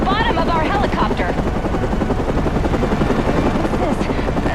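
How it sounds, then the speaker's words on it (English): Rotor thump of a news helicopter in the video game Batman Arkham Origins, a steady loud chopping drone that fills the whole stretch, with a voice speaking over it. "the Batman has been blown from the building by the blast and is somehow hanging from the bottom of our helicopter"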